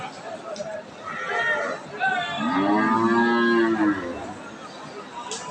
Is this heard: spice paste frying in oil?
no